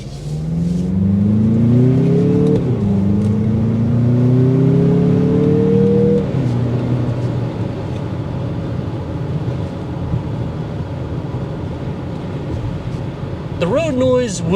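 A 2023 Mazda CX-50 Meridian Edition accelerates on the road, its engine note rising through a couple of gear changes before settling into a steady cruising drone with road noise, heard from inside the cabin.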